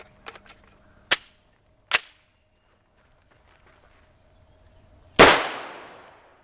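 A CZ Scorpion fires 9x19mm 115 and 124 grain FMJ rounds during a velocity test: two sharp, loud reports about a second apart, then a pause and a third louder crack with a trailing echo, no voices.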